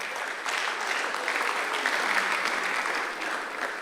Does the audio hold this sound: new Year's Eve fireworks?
no